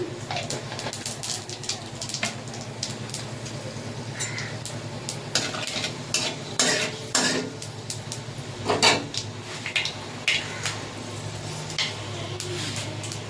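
Panch phoron tempering in hot oil for katla curry, a steady sizzle with frequent metallic clinks and scrapes of a utensil against the pan, crows cawing in the background.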